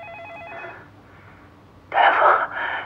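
A telephone rings in a hospital setting, its warbling electronic tone repeating for under a second near the start, then fading into a quiet room before a louder, muffled burst of sound.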